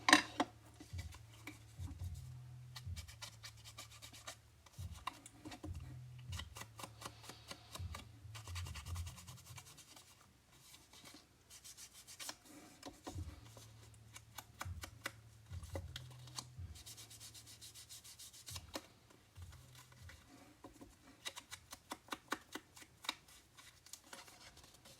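An ink pad dabbed and rubbed over printed cardstock pieces, repeated soft scuffing and brushing strokes in irregular bursts, close and quiet, with no speech.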